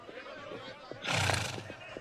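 A horse neighs loudly as a sound effect in a staging of Shakespeare's Henry V, one sharp whinny bursting out in the middle of dramatic spoken dialogue.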